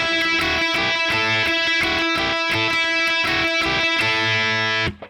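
Distorted electric guitar repeats the break riff from a song, tight palm-muted chugs and accented chords in a steady looping rhythm, loud and alone, ending abruptly.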